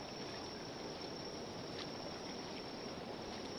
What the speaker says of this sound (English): River sounds pretty much in front of me.